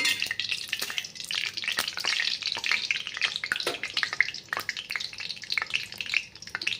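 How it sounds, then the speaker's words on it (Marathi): Mustard seeds frying in three to four spoons of hot oil, a dense, close crackle of rapid pops and spitting sizzle that keeps going steadily without voices. "तीन ते चार चमचे तेल आहे ह्याच्यामध्ये मी मोहरी टाकलेली आहे"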